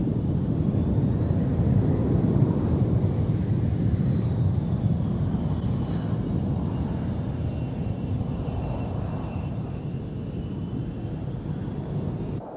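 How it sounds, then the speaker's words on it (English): Blue Angels jets taxiing two abreast onto the main active runway at El Toro Marine Corps Air Station in Southern California on a hot June day, a steady loud jet engine roar and whine that fades slightly over time, with no talk. "the Blue Angels taxi out onto the main active runway on a hot June day"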